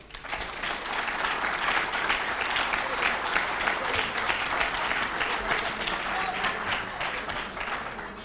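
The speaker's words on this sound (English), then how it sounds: "If that was an applause for his performance, we want to do it better." An audience at an evening political event claps together, a thick sustained wash of applause that holds steady for several seconds before easing slightly at the end.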